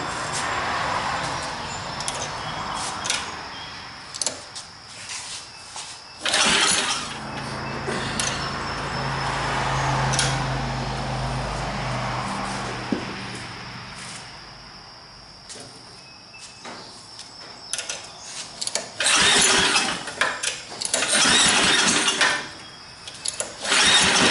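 A small gas engine starts after fresh gas is added and runs steadily in the foreground, its loud drone holding for about ten seconds before sputtering, with crickets chirping faintly through the quieter stretches.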